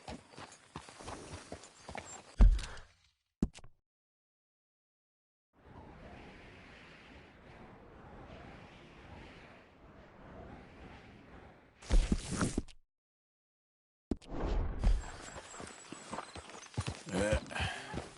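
A horse's hooves clip-clop in several separate bursts of walking steps, some close and loud, others softer and steadier, with quiet gaps between them.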